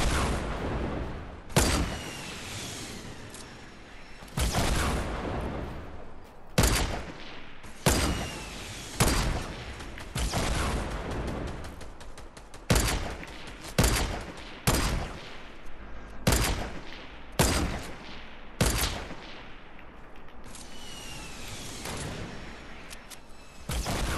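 Sniper rifle shots in the video game Fortnite ring out one at a time every second or two, each a sharp crack with a short decaying tail, fairly loud with no voices.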